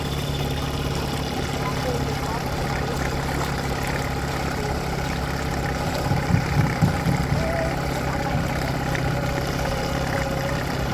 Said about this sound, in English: it's pretty relaxing because the engine's not making too much noise